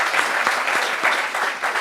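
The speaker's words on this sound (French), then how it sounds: "Applaudissements pour Kevin." Brief burst of close applause for Kevin at a group discussion, a small crowd clapping briskly with individual claps audible.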